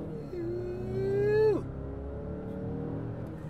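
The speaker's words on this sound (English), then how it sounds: "this is the Mazda CX-9, the 2018. She's pretty fast, too. It's got a turbo. I could show you." A 2018 Mazda CX-9 with a turbo engine accelerates hard from inside the cabin, its engine note climbing steadily in pitch for about a second and a half before dropping sharply at a gear change, then settling into a lower steady drone.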